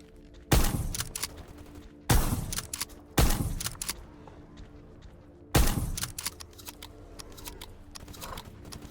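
Gunfire from a weapon in S.T.A.L.K.E.R. G.A.M.M.A.: four loud, sharp, widely spaced shots, each with a short echoing tail, separated by quieter game ambience.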